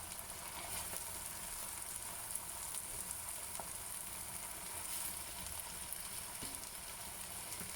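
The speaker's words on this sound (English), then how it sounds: "adding the sago pearls in the wok" Sago pearls cooking in a hot wok give a faint, continuous frying sizzle with occasional small clicks, steady throughout and with no speech.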